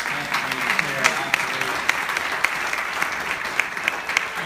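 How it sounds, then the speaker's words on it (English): An audience applauds together, a dense continuous patter of clapping with a few sharper individual claps standing out, steady throughout without fading. "please a round of applause for Anthony and Clara."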